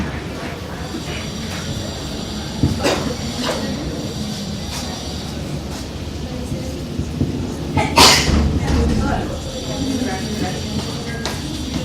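A single sharp sneeze bursts out loudly near the listener during an online economics lecture session, standing out against background murmur and occasional speech.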